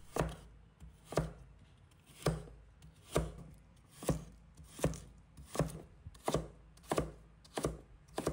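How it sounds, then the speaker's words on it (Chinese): A knife dices a carrot into small cubes on a cutting board, about ten crisp, evenly spaced chops near and clear, with no voices. "取出1条胡萝卜，把它切成均匀小粒"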